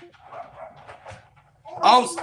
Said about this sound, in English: will she get that dog quiet?